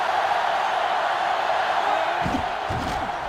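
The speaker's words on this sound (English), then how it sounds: "This crowd is almost shaking the stadium." A stadium crowd in NCAA Football 2005 roars as a steady, loud wash of massed voices, with a few louder whoops and shouts rising near the end.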